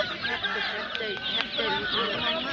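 Poultry clucks and chirps fill a busy bird market where ducks and chicks are sold, the calls overlapping continuously at close range with light chatter nearby.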